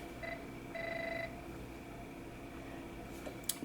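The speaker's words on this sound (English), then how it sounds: "oh, my phone's ringing." A mobile phone ringing with short repeated electronic tone bursts over a faint background hiss, fairly quiet and slightly distant.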